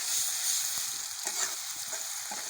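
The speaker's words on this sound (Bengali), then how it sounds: "আদা রসুন, জিরা বাটা, পেঁয়াজ বাটা, এগুলা এখন কষাই নেবে।" A paste of ginger, garlic, cumin and onion sizzles briskly in hot oil, close and steady, with a few soft stirring knocks and no talking.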